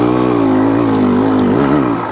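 A rebuilt 1998 Kawasaki KX125 two-stroke dirt bike engine buzzes loud and close, holding a steady rasping drone with a few small rises and dips in revs.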